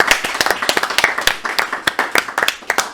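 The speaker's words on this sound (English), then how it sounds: "Round of applause." An audience claps together in a live studio show, a dense run of quick irregular hand claps, close and lively, lasting throughout with no voices over it.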